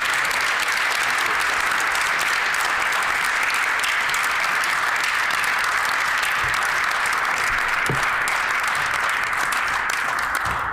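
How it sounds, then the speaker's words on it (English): Long, sustained applause rings through a provincial legislative chamber for firefighters seated in the gallery, with many hands clapping at an even, loud level throughout. "So if we give them a round of applause, please"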